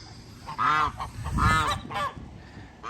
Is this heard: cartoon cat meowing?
no